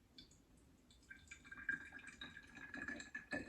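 Homemade Tabasco-style sauce from aged garden peppers pours through a funnel into a bottle, giving a soft, faint liquid trickle and drip that swells slightly and runs steadily, close and alone.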